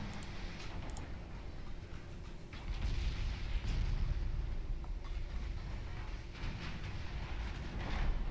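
Naval guns firing in Ultimate Admiral Dreadnoughts, with dull booms and a rumbling battle backdrop that swells midway and holds steady without speech.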